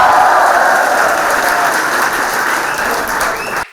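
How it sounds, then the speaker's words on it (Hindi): Audience applause at a NIMCET 2025 results announcement, loud, dense and steady clapping from a crowd that fills the room and then cuts off abruptly near the end. "इसके लिए भी ताली बजा दो।"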